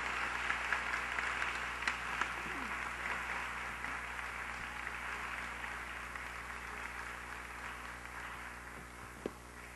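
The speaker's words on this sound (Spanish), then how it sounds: "un aplauso por parte de todas y todos" An audience at a panel session applauds the speakers in a soft, steady, distant-sounding wash of clapping that runs evenly throughout over a low hum, with a couple of brief knocks.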